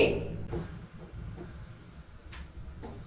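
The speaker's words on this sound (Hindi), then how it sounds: "सबसे पहले हम लिखेंगे" A pen scratches faintly across paper in short strokes during a Class 3 maths lesson on addition, quiet and close with no voices.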